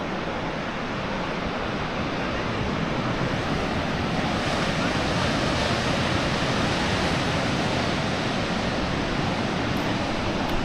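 Ocean surf washing continuously onto a beach, a steady loud broadband roar of breaking waves that stays even throughout, with wind noise on the microphone and no speech.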